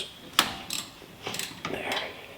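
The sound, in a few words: ratchet loosening T45 brake caliper bolts on a Mazda CX-30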